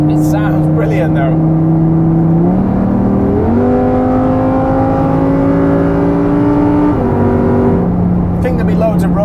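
A Lamborghini Huracan Sterrato's detuned engine revs loudly from inside the car, its tone stepping up through several gear changes and then dropping back as it settles, with no talking over it.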